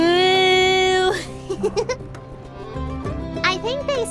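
Yakimel livestock calls in the farming game My Time at Sandrock: a long, steady, tonal moo-like bleat, then a short pause and a few brief higher bleats, fairly close, with a voice talking over part of it.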